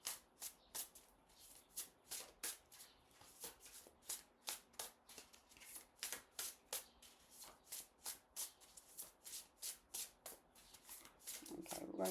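A deck of tarot cards is shuffled by hand in a long series of quick, rhythmic riffles, soft and close, with a brief rustle at the end.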